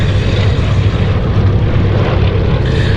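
Loud, steady propeller engine drone from a pair of Westland Lysander aircraft flying at the Duxford 2022 airshow, a continuous close roar with no talk.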